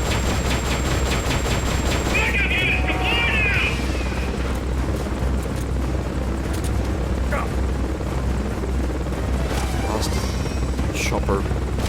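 A Hind helicopter in the video game Metal Gear Solid: Peace Walker thrums with a steady, loud rotor drone, mixed with game effects and brief voice-like sounds.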